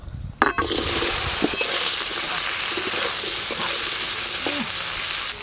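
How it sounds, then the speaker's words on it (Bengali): Potato pieces frying in hot oil for a Bengali fish-head dish, a sudden loud hiss as they drop in, then a dense, steady close-up sizzle with a few faint scrapes. "আলুগুলোও ভেজে নেব।"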